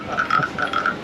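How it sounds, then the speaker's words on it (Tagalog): A rapid series of raspy croaks, like a frog call or a frog-shaped wooden rasp, repeating in quick bursts close by, at Mae Klong Railway Market in Thailand. "Sounds like a frog."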